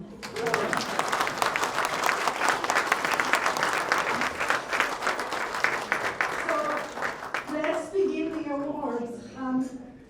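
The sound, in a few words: audience applause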